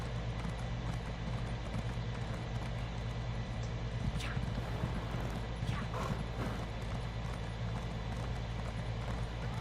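A horse galloping in a video game, steady hoofbeats over a dense game soundtrack, with a brief neigh and a voice talking faintly underneath.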